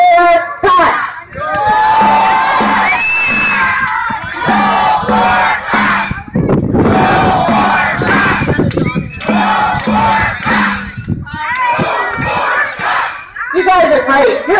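A rally crowd at the Alberta Legislature cheers and chants in loud rhythmic bursts, shouts rising and falling in repeated waves, with brief pauses between chants and voices filling the space close by.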